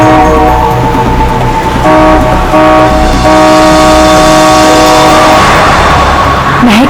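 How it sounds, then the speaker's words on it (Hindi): Car horn honking loudly and insistently on an open road, sustained blasts broken by brief gaps, with steady traffic noise underneath and no talking. "हॉर्न पे हॉर्न मार रहा है।"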